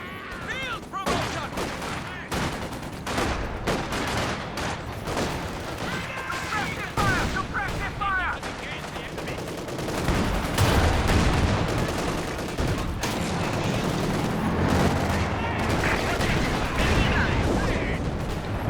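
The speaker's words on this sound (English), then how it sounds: "T-gun shots firing back and forth there" Rapid gunfire exchange in a Company of Heroes 2 battle, with sharp rifle cracks, machine-gun bursts and heavier booms overlapping densely. A louder, fuller stretch of firing comes in the second half, with a commentator talking over it.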